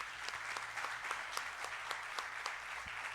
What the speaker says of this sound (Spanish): Yo pido un fuerte aplauso para el maestro Simón Rodríguez.